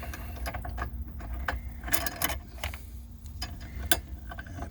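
A ratchet turns a bolt out of an engine cover bracket on a 1995 Chevrolet Astro van, giving quiet, irregular metallic clicks and short rattles, close up with no talk.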